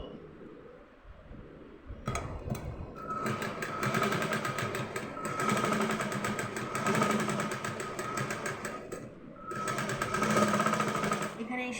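A sewing machine stitches the lip of a teddy bear in fast, rattling bursts, starting after a short pause and briefly stopping midway, while someone talks over the whirring.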